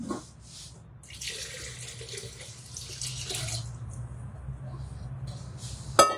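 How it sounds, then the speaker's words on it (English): Vegetable cooking water is poured into a soup pot of vegan tortilla soup, giving a steady close gurgling splash that swells and runs on for several seconds before a brief clatter at the end. "we'll add the vegetable broth, which is not actually broth"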